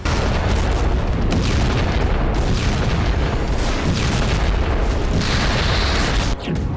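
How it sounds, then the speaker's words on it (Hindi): Heavy Israeli bombing strikes on the Khan Younis area, heard as a loud, continuous wall of booming, rumbling blasts with no break and no voices. "इजराइल ने खान यूनिस इलाके पर जबरदस्त बमबारी शुरू कर दी है"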